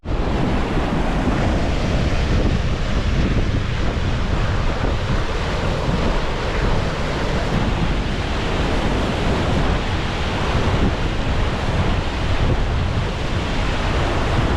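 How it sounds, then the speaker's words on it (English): A waterfall in the Elan Valley, Wales, gives a steady, loud, broadband rushing roar that stays constant and close throughout with no voices. "on the way out we've just come across a waterfall"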